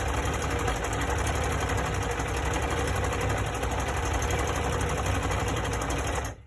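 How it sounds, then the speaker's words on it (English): A sewing machine runs continuously, stitching face mask pieces one after another in a fast, loud, even mechanical whir that lasts the whole stretch and cuts off at the end. "I can literally sew one piece, continue sewing the next piece"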